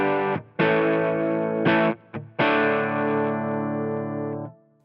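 Electric guitar played through a Line 6 Helix Mahadeva amp model (based on a Bogner Shiva) at low drive: a few sustained strummed chords with slight breakup, separated by brief gaps, ringing out clearly before fading.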